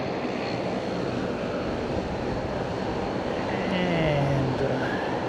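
Jet airliner in orange livery taking off from Fukuoka Airport, a steady broad engine roar with a rising whine near the end, heard at a distance under occasional talk.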